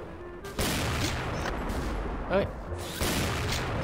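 Sharp shots from the Cold Roar M82A1, an early silver-era gun in the shooter game XSHOT, fire about three times with long rumbling tails, and a voice makes a brief exclamation between them.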